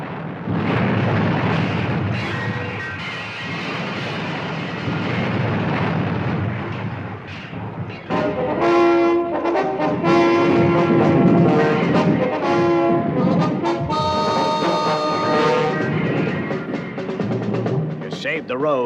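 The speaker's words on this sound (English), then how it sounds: "There was a shattering explosion." A long, loud rumbling explosion roars for several seconds, then gives way to dramatic music and voices, in a 1966 Thunderbirds puppet television episode.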